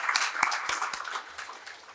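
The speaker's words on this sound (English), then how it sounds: "So please give a round of applause for all our partners and our sponsors" Applause from a business summit audience for partners and sponsors, a dense, steady patter of many hands clapping at moderate volume for a couple of seconds.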